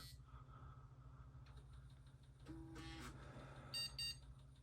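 Two short, high electronic computer power-on beeps sound close together near the end, after a faint mechanical whir and a low steady hum.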